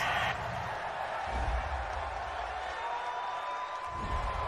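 A stadium crowd at a Bengals–Ravens football game voices its displeasure at a roughing the passer penalty, a broad steady roar of many voices with shifting low rumbles, moderately loud and continuous.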